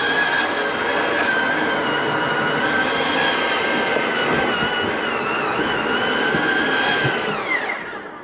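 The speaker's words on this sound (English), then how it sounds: "That is just the slide mechanism telling itself not to come in any further." The slide-out mechanism on a 2021 Mesa Ridge 332RLS travel trailer runs as a steady, loud, close motor whine and drone, then winds down and stops near the end.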